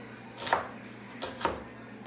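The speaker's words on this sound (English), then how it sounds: "This here, we're just gonna slice it up like so." A knife slicing beef for rouladen on a cutting board, two soft separate cuts with the blade tapping the board, quiet and close, with no voices.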